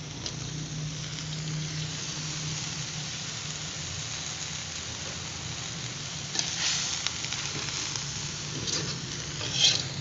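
Water spinach stir-frying in a hot pan with shrimp paste, galangal and sugar, giving a steady dense sizzle with occasional louder crackles and scraping stirs. It sounds close and carries on unbroken, with no voices.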